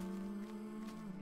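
Cows low in a video game, a faint, sustained mooing drone with a steady tonal hum. No one speaks.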